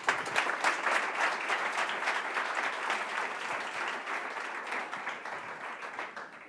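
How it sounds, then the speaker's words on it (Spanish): Conference audience applauding a speaker as she steps up to the lectern: dense, sustained clapping from a large crowd that starts strong and slowly tapers over several seconds. "Un aplauso para ella, por favor."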